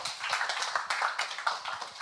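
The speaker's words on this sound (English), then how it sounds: "So big round of applause" Scattered applause from a small audience at a cryptocurrency talk, a few hands clapping fairly close in quick, uneven bursts with no talk over it.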